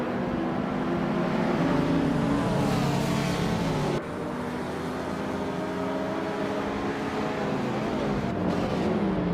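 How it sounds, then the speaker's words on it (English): A 1989 TVR Tuscan race car drives during a race, its engine droning loud and steady with shifting pitch and a brief break partway through, as if heard from inside the car. "Chris Goffer is driving a 1989 TVR Tuscan"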